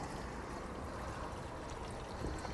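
Clean water poured into the windscreen washer reservoir of a Mercedes W115, a steady close splashing and trickling stream that runs unbroken and fairly loud throughout, with no talking.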